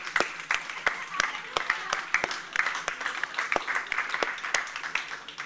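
A modest group claps in a steady patter of hand claps, fairly close, with voices talking over the applause at an Armenian church gathering.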